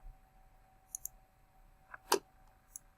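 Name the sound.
computer mouse click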